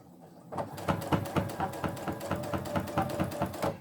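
A sewing machine stitching a folded edge of fabric for a peg apron starts after a short silence, then runs at a steady, fast mechanical rhythm of evenly spaced needle strokes, close and moderately loud.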